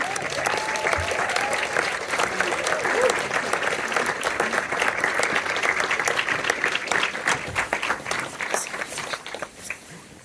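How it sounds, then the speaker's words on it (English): A room full of people at a film screening discussion applauds continuously, dense clapping with a few cheers, steady and loud before tapering slightly at the end. "Can we clap again?"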